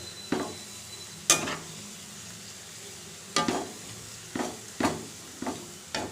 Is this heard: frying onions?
yes